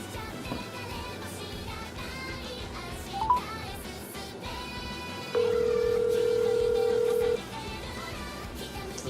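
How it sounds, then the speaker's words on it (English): Telephone tones sound during a call, with a steady electronic tone holding for about two seconds over busy background game music and faint chatter. "I gotta make a quick phone call"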